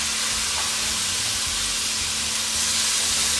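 Pieces of flank steak sear in a hot pan with a steady, dense sizzle and hiss that runs close and loud for the whole stretch, with no voices over it.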